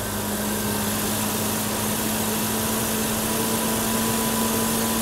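A BMW E30 engine idles steadily, with a constant low hum and a faint high whine throughout, close and continuous with no talking.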